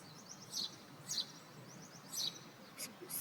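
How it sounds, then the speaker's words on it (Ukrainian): Small birds chirp in quick, high bursts several times, fairly distant, over a soft, steady outdoor hiss. "співають пташки."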